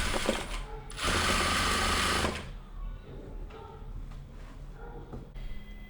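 A sewing machine stitches a kameez seam in a loud, rapid mechanical burst, then stops and leaves quiet handling clicks, with a shorter run of stitching near the end.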